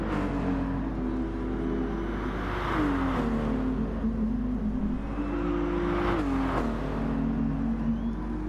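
Race cars in Gran Turismo Sport drone steadily through a chicane section, engine pitch dipping and rising with shifts and braking over a constant loud hum, without voices.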